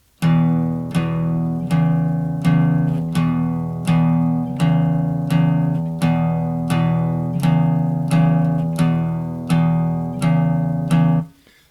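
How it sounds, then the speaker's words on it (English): Boogie woogie figure on guitar picked with a plectrum, steady repeated plucked notes in a looping bass-line pattern, close and clear with no talking. "So if you did it with a pick, it might sound a little bit more like this."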